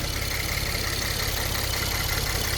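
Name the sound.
Ford Taurus Police Interceptor 3.5L EcoBoost engine running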